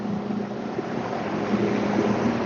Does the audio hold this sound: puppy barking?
no